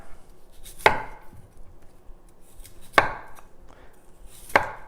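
A knife trims a broccoli stem on a cutting board, three sharp separate cuts spaced about two seconds apart, each close and crisp with a quiet pause between.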